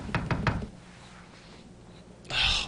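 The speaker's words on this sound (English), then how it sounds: "Knock, knock, knock." Three quick knocks on a door in the Gabriel Knight 2 adventure game, sharp and close, followed by a short faint rustle and a brighter burst of game sound near the end.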